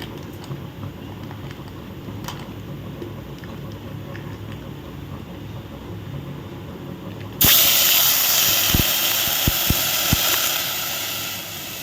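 Milk boiling with roasted vermicelli in a pot for mango payasam gives a steady close hiss and bubbling that surges much louder partway through, then rolls on with soft pops and no voices.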